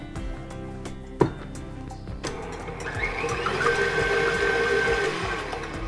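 A stand mixer whisking egg whites for almond flour pancakes switches to high speed: a loud mechanical whir rising in pitch and intensity, with a sharp clunk early on and a steady rattling drone building to the end.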